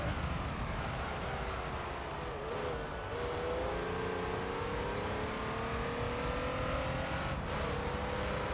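Race cars in Gran Turismo 3 roar continuously at close range, with engine pitch climbing and falling through gear changes and faint tire noise.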